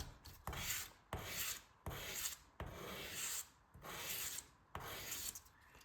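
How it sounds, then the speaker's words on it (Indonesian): Coarse sandpaper rubs a balsa wood airfoil rib for a rubber-powered model plane in repeated rasping strokes, about eight steady back-and-forth passes with brief gaps, close and clear with no talking. "Gunakan amplas yang sedikit kasar."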